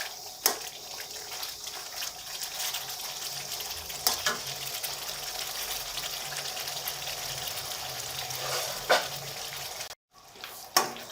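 Masala gravy for baingan (brinjal) fry sizzles steadily in a pan, a constant frying hiss broken by occasional stirring scrapes and clinks, close and moderately loud.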